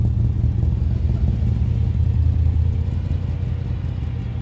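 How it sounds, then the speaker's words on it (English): A Suzuki Cappuccino at an Australian car show pulls away, its small engine giving a steady, fairly close low rumble that holds level throughout, with no talk over it. "Suzuki Cappuccino, you're leaving?"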